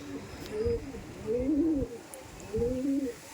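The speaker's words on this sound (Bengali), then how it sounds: "পরবর্তীতে একটা পায়রা দেখাচ্ছে দেখুন" A Giribaz high-flying pigeon coos nearby in three low, rolling bursts, with faint background noise and no talking.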